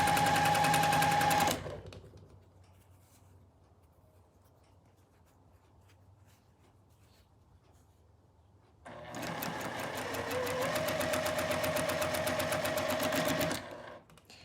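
A sewing machine chain pieces pairs of quilting fabric, with a fast, steady mechanical rattle in two bursts separated by a quieter pause, close and loud.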